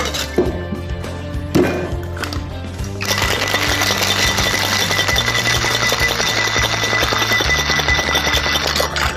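A daiquiri being shaken hard in a cocktail shaker with ice. After a few separate clinks, steady rattling of ice begins at about three seconds and runs loud and continuous, with a low musical bed underneath.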